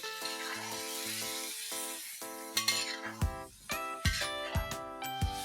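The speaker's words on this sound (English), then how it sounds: "Mix this well." Chicken marinade with pepper powder, garam masala and lemon juice being mixed in a bowl. Several dull thumps and light clinks of a utensil against the bowl follow music at the start, then carry on under it.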